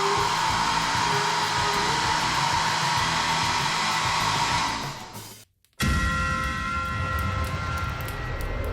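A hair dryer runs loud and steady in a hotel room in Venice, Italy, with a steady whine; it cuts off sharply for a moment near the middle, then starts again and keeps blowing.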